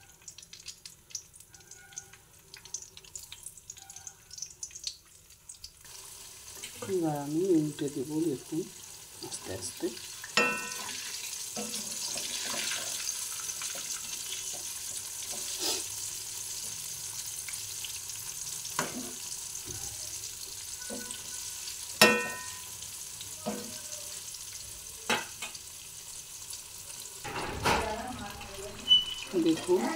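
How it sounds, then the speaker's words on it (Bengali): Vegetable cheese rolls fry in hot oil with a steady, moderate sizzle and occasional sharp spatters and clicks from turning. A voice talks briefly near the start. "তেলটা আমার গরম হয়ে গেছে। আমি এবার রোলটাকে দেখুন ছেড়ে দিচ্ছি।"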